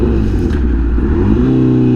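A liter-class motorcycle pulls hard at quarter throttle, its engine close and loud with a rising, throbbing growl and a pitch that climbs steadily over two seconds.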